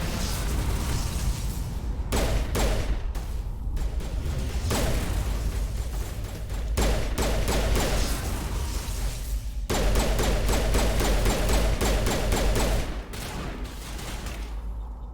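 Pistol gunfire in the Mass Effect video game, loud rapid bursts of shots in repeated clusters over a dense background of game effects and booms, continuing throughout.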